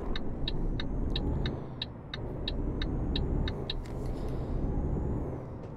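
A truck drives in Euro Truck Simulator 2 with Pro mods, a steady engine rumble and road noise throughout. A rhythmic series of high ticks, like an indicator, runs over it, and there is no talking.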